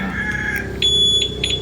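A two-way alarm on a Honda XRM 125 Fi motorcycle sounds a few short, close, high electronic chirps over a steady low hum, with a thin sustained tone lingering between them.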